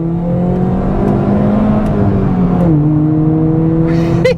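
Modified project car accelerating hard on a rolling road dyno, with a loud steady engine drone whose pitch holds and then shifts lower near the end, close and continuous.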